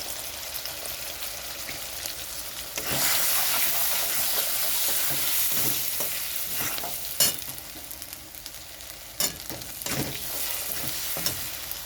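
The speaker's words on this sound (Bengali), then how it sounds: "তো মশলাটা ভালো করে কষিয়ে নিচ্ছি।" Ground spices (turmeric, cumin and Kashmiri chili powder) frying in a pan for a prawn and raw banana curry, a loud sustained sizzle and hiss with several sharp spatters and stirring scrapes, no talk.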